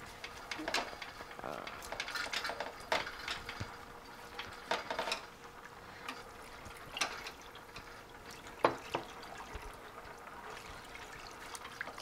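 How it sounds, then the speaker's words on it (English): Liquid is poured into a pan while a spoon keeps stirring an Alfredo sauce, with repeated clinks and scrapes against the pan over a light trickle, and a person talks in between. "I just wanna like put in 1 cup and like constantly stir as I pour it in"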